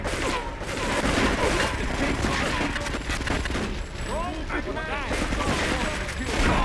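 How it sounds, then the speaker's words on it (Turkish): Dense gunfire bursts from Grand Theft Auto III gameplay, loud repeated shots and booms crowding the whole stretch, with a voice talking over part of it. "Bayağı sağlam vuruyorlarmış bu arada."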